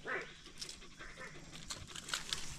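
A dog that has been digging in the dirt gives a few short, irregular barks, faint and somewhat distant, over soft outdoor background noise.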